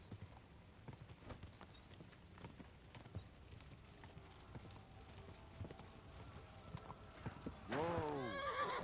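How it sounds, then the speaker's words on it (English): Horse hooves clip-clop in a steady rhythm in the video game Kingdom Come Deliverance 2, close and continuous, ending with a loud, falling whinny in the last second. "I'm just gonna stop fucking riding the horse, bro."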